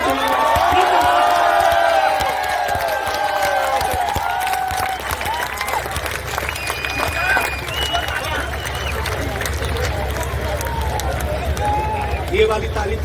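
Applause and cheering fill a poetry gathering at a Holi festival in Prayagraj, with loud clapping and shouts at the start that fade into a steady crowd murmur mixed with speech.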